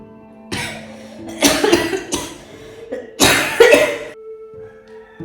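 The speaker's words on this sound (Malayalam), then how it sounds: "രണ്ട് വർത്താനം പറയുമ്പോത്തിന് ചുമയാണെങ്ങ് നിൽക്കണമില്ല" A person coughs hard several times in close, harsh bursts, with short pauses and a wheezy breath between fits.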